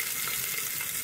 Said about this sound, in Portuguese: Olha só, tá dando aquela douradinha já na cebola e no alho.